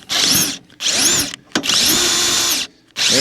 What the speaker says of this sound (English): So you have to bore through it a little bit.